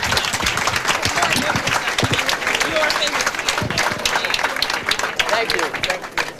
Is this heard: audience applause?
yes